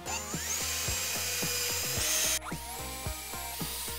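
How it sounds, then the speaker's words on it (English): A power drill whines steadily as it pre-drills holes into a 2x4 wooden window frame, with a continuous close motor tone that shifts in pitch partway through. "pre-drill on all four sides of our window so that we can anchor it to our framing"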